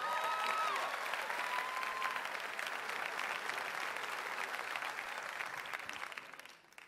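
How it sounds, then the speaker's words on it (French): Audience applause at an awards ceremony broadcast: steady, dense clapping from a sizeable crowd throughout, fading at the very end, with a faint whistle early on. "je pense que ça mérite une bonne main d'applaudissement"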